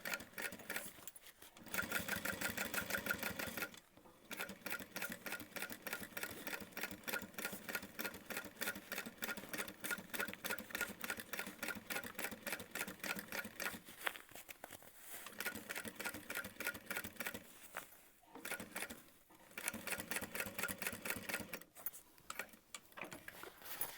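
A domestic sewing machine stitches through the bulky bottom of a backpack in long bursts of rapid, even mechanical chatter, separated by a few brief pauses.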